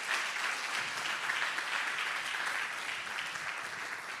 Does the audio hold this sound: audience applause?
yes